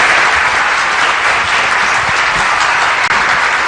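A studio audience breaks into dense, steady applause to welcome a doctor as an evening program guest, loud and continuous for the whole stretch with no voices over it.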